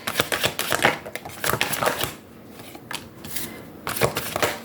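Tarot cards shuffled and laid down by hand, a run of quick papery riffles and soft slaps in uneven bursts with brief pauses between them, close and fairly loud.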